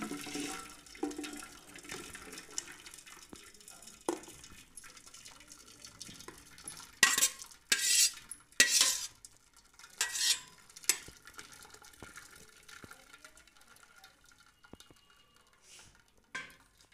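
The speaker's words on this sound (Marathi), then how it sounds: "तर आता आपले नूडल्स छान शिजले आहेत, तर आता आपण ते चाळणीत" About two packets of cooked Chinese noodles are tipped into a strainer: water splashes and gushes in several loud bursts with clanks of the pan, then trickles off quietly.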